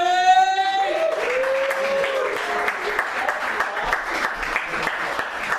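A comedy club audience at Kingston Pop Museum applauds comedian Dave Britton in a dense, sustained wash of clapping, with a voice heard over the start.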